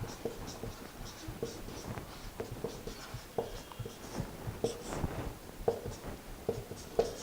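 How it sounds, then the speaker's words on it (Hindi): A pen scratches across a writing surface as chemistry reaction steps are written out. It makes soft, irregular strokes and taps spread through the passage, fairly faint, with no one speaking. "अब देखो ये स्टेप्स लिख रहा हूं मैं सबके"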